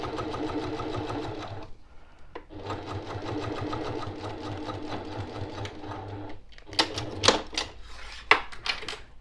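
Sewing machine stitching a zipper into a boxed zipper pouch, running in steady rapid bursts with short pauses between seams, then a few louder clicks and handling noises near the end, with no talking.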